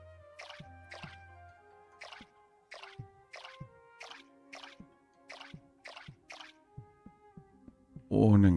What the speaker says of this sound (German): Und dann können wir den ganzen Spaß hier auch nochmal direkt gießen.